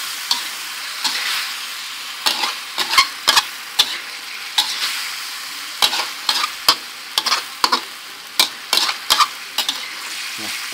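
Long beans being stir-fried in a hot pan for a Thai sweet-and-sour dish, a constant loud sizzle broken by frequent sharp clanks and scrapes of the spatula in uneven bursts, close up and with no talking.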